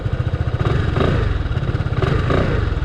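A SYM Cruisym Alpha 300 scooter with traction control switched off accelerates hard, its engine droning loud and close with a steady pulsing rumble and rising revs throughout.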